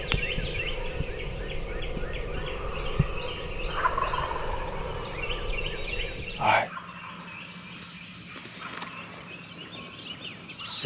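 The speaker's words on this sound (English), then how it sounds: "Turkeys just keep gobbling." Wild turkeys gobble at a Maryland spring creekside hunt, repeated rattling calls over a busy chorus of other birdsong, moderately distant, with one louder gobble closer in before the background thins out.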